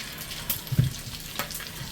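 Bacon sizzles softly in a pan, a low crackling hiss broken by a few small pops and a brief thump close by.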